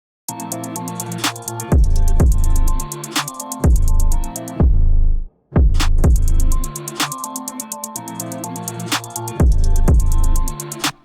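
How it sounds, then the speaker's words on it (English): A punchy drum-and-synth beat plays, then briefly cuts out to near silence before a heavy hit brings the full groove back in. "we kind of added a dropout section here."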